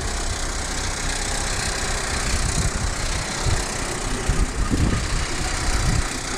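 Fiat Panda 100hp engine running in gear with one wheel spinning on axle stands, a steady, rough mechanical drone with faint knocking, growing slightly louder and uneven toward the end.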